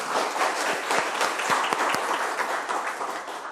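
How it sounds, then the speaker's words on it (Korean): Committee members at a Ulsan city council environment and welfare committee session applaud together in a steady, dense patter of many hands clapping, moderately loud and continuous, with no one talking over it. "우리 다 같이 축하 박수를 한 번 더 보내주시기 바랍니다"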